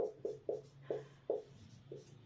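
Short taps and strokes of writing on a board during a history class come in an irregular series of about six quiet, close marks, with no voices.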